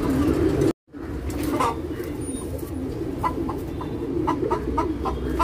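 Soft cooing of Anekal Rekdhar pigeons close by, with light fluttering and shuffling amid a steady room hum, after a brief cut to silence.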